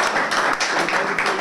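A burst of clapping from a rap battle audience, dense and steady throughout, fairly close.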